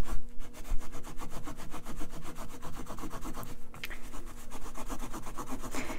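A knife blade scraping denim to distress doll-sized shorts gives a fast, steady rhythmic rasping, many quick strokes in a row, close and fairly quiet with no voices.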